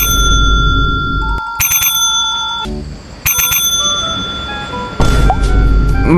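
A bicycle-style bell rings at a busy burger stall in Malaysia, sharp metallic trills in short bursts separated by pauses, loud and close over steady background hum.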